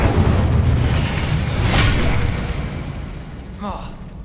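An Incendio fire spell cast in Hogwarts Legacy gives a loud, sustained rushing, roaring burst of flame that slowly fades, with a brief whoosh near the end.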